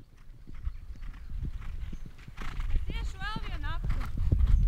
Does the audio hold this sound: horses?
yes